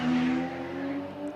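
A Porsche 997 GT3 with its 3.8 flat-six engine races past at the Shelsley Walsh hill climb, a loud, steady, high-pitched howl that sounds close and sustained, with no talk.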